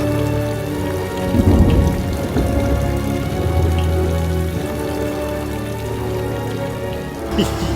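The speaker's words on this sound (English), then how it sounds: "It's raining." Rain falls steadily on hard surfaces during a humid outdoor run, a dense continuous patter with a few louder drops and faint movement sounds mixed in, and no talking.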